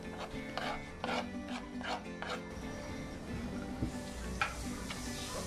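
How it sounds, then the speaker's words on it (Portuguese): Corn fritter batter with salt and chopped green herbs is stirred in a bowl, giving faint, irregular scraping and rubbing strokes, several in quick succession early on, with a few soft clicks of the utensil. "Adicione o sal e o cheiro verde e mexa tudo muito bem."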